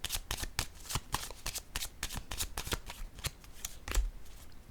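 Tarot cards being shuffled and laid down, a rapid run of crisp, close riffling flicks and slaps repeating through the whole stretch, with no voice over them.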